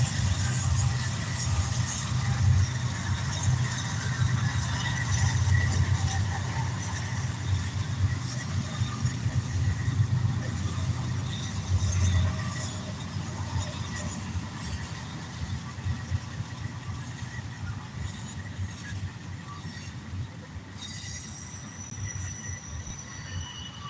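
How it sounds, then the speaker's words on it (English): A train rolls past on the track at Burr Park, its wheels squealing in long high-pitched tones over a loud continuous rumble of railroad cars, close and steady throughout with no talk. "We got one more train going down the track, headed to the north,"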